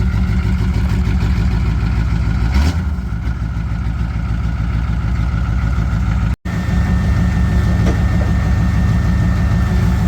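A skid steer idling on a job site beside a long trailer: a loud, steady low diesel rumble that holds throughout, with a brief knock partway and a very short dropout near the end.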